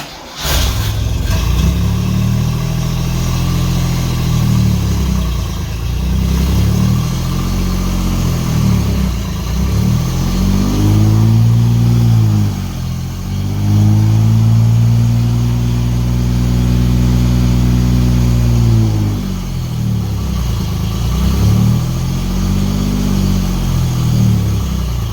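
A 1963 CJ5 Jeep's engine runs loud and close, idling and revving in repeated rising and falling swells over about twenty-five seconds.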